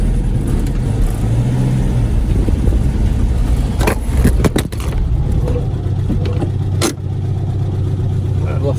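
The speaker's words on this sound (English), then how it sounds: "It's braking in a much better, straighter line now." A Volkswagen Beetle with freshly adjusted brakes drives along with a steady engine and road rumble, a few sharp knocks and clunks in the middle as it brakes, with a voice talking over it.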